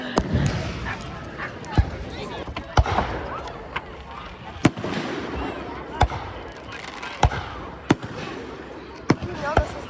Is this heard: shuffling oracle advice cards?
no